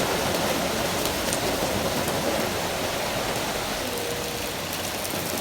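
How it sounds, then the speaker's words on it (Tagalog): Heavy afternoon rain in Malaysia pours down in a steady, dense hiss that stays loud and unbroken throughout, with no voices. "sobrang lakas po talaga ng ulan. Ganyan po yung ulan tuwing hapon dito."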